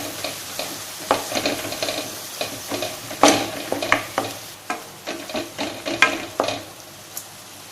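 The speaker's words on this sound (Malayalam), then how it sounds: "ഇനി നമുക്കിത് നന്നായിട്ടൊന്ന് മിക്സ് ചെയ്യാം" Coconut paste being stirred into a taro and jackfruit seed stir-fry in a hot pan, giving repeated scraping, stirring strokes over a soft sizzle, close and fairly loud with no talk.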